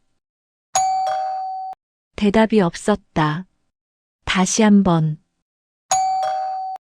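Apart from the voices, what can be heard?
doorbell being rung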